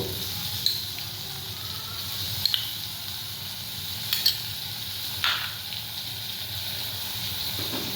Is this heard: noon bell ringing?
no